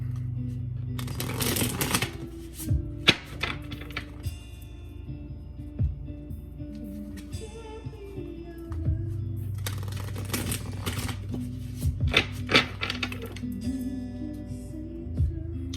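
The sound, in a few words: shuffling tarot cards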